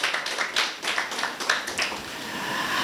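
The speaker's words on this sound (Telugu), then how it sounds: "ప్రణీత్కి ఒకసారి అందరం చప్పట్లు కొడదాం" An audience in a hall claps for Praneeth, a brief burst of scattered hand claps that thins out into a softer, steady patter.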